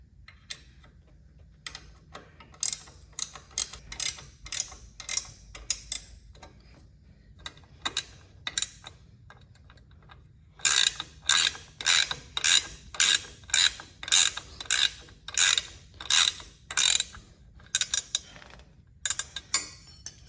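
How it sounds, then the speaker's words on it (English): Ratchet clicking in quick bursts while tightening the remaining screws on a Harley-Davidson extended floorboard fitted with Kuryakyn spacers; close, crisp pawl ticks come in rhythmic runs separated by short pauses, with no talking. "so I'm gonna tighten up those remaining screws"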